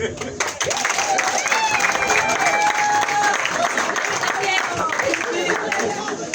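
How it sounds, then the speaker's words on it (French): A crowd at an outdoor political rally in Gabon applauds a newly introduced delegate, with mixed clapping under raised voices and cheering, rising quickly after a brief lull and staying loud and busy to the end. "Je vais voir si vous allez applaudir pour la femme qui suit"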